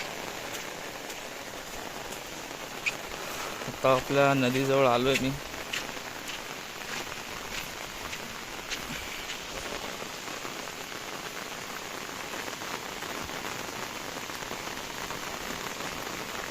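Rain pours steadily during a windy storm while someone walks near a river on the way to Mandangad, a constant broad hiss of drops throughout, with someone briefly talking close by partway through.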